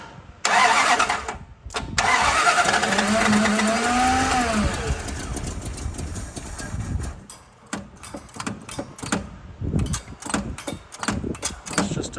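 A 1969 Dodge Dart that sat for 22 years cranks and fires up, its engine catching roughly and revving loudly, then stumbling into uneven bursts and sputters before cutting out intermittently.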